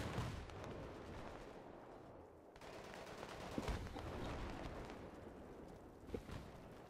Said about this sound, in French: Il n'y a aucun ennemi, je tire dans le vide.